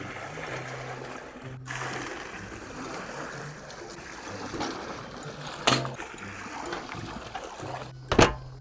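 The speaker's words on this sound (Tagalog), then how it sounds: "maglagay na tayo ng tubig." Water pours steadily into a cooking pot for spicy Samyang Buldak noodles, a continuous close splashing rush broken by a couple of sharp metallic clinks near the end.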